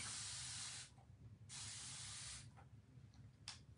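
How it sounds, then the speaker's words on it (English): Three bursts of spray: two long hissing sprays about a second each, then a short quick spritz, close and fairly loud. "that needs some spray and some stirring"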